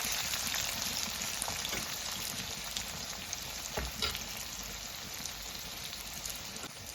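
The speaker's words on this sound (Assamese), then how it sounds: "পিঁয়াজটো ভালকৈ ভাজি লওঁ।" Onions frying in a pan for a leafy vegetable curry, giving a steady, close sizzle with a few soft clicks of stirring and no talking.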